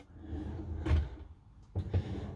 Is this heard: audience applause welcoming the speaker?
no